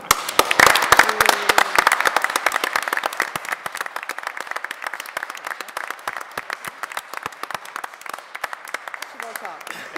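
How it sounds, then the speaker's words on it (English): A round of applause fills a town council meeting chamber, a dense burst of clapping that starts strong and gradually thins over about ten seconds, with faint voices underneath. "So I would just love if y'all would give them a round of applause"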